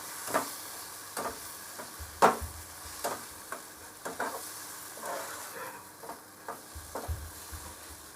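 Spice paste frying with potatoes in a pan, giving a low steady sizzle broken by intermittent scraping and knocking strokes of a spoon stirring, some louder, spread unevenly across the stretch.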